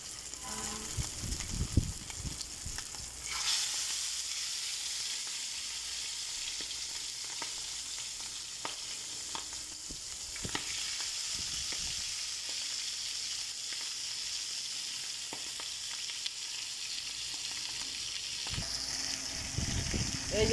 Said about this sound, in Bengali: এই যে দাদা মাছ ভাজা হচ্ছে